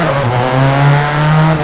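A Ford Focus rally car in the WRC 4 game swings through a handbrake turn on a hairpin, its engine droning loud and close with a faint tire squeal running through it.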